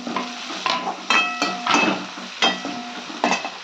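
Tomatoes drop into a pan of frying cumin, fennel, pepper and onion, bringing a run of clattering, stirring knocks against the pan over a low sizzle, close and fairly loud.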